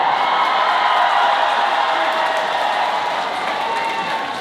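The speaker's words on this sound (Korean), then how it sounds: "거기보다 박수 소리가 배로 더 좋은 것 같아요" A large outdoor concert audience at a Park Seo-jin performance in a lakeside park gives sustained, dense applause mixed with cheering, a steady wash of clapping and crowd noise that holds at a constant level throughout.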